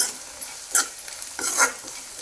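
Girmit masala with turmeric powder fries in a pan, a steady close sizzle broken by a few bursts of stirring and scraping and no talk.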